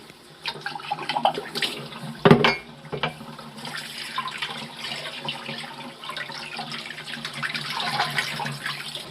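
Tap water runs steadily into a sink while squid is rinsed, with splashing, a brief louder gush and handling noises close by, mostly continuous throughout.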